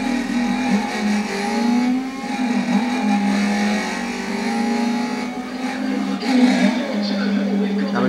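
A race car engine in Need for Speed ProStreet holds a steady, loud droning hum with slight pitch swells, while someone talks over it throughout.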